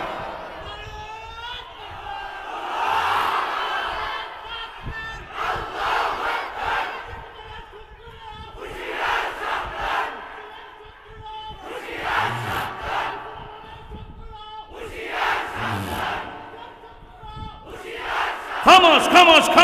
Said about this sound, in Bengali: হাত তুলে আল্লাহু আকবার বলে দেখান, নারা তাকবীর বলে আওয়াজ দিয়ে দেখায় দেন কারা পারবেন